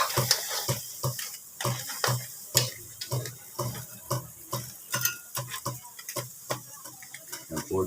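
Crabs fry in a pan, giving a soft continuous sizzle broken by sharp, regular scraping clicks of a utensil stirring and turning them, fairly quiet and close, with no speech.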